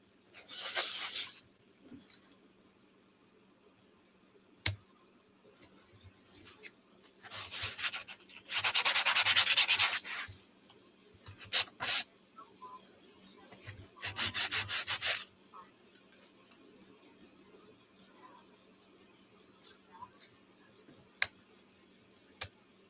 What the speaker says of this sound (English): Except for my sanding block.